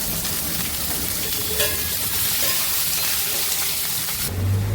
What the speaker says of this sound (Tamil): 3 மீடியம் சைஸ் வெங்காயம் கட் பண்ணியிருக்கேன். வதக்கிக்கிறேன்